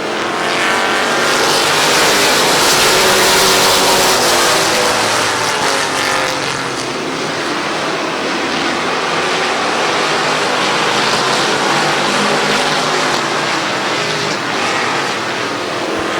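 Race cars roar around Midvale Speedway during the 2020 Fall Classic, their engines a loud, continuous wash of noise that swells and fades slightly as the pack passes.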